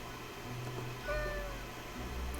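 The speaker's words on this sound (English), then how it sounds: "The cat mutters in contentment." A cat in the video game Death and Taxes gives a short, soft, contented meow, heard faintly over a low steady background hum.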